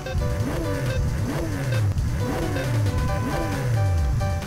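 Car engine in a racing video game on a dedicated console, revving and rising in pitch in repeated surges, loud and steady under bright synthesized game sound with no talk.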